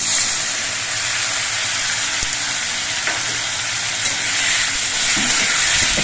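Ginger and green chili paste fries with softened tomatoes and potatoes in a pan for a vegetarian okra dish, giving a steady, loud, unbroken sizzle and hiss that lasts throughout with a few soft stirring knocks and no voices.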